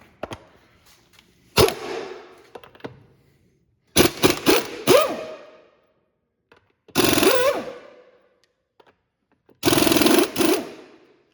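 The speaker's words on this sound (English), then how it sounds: "for the lug nut removal, you can use 3/4 inch or 19 millimeter" An impact gun removes the lug nuts from the front wheel of a 2018 Chrysler Pacifica, with four separate loud rattling bursts spaced by short silences.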